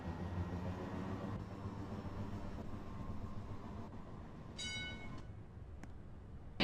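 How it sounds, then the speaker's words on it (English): A Manhattan-bound 2 subway train at a New York station produces a steady low rumble that fills the whole stretch, with a brief high metallic squeal toward the end, moderately loud. "This is a Manhattan-bound 2 train."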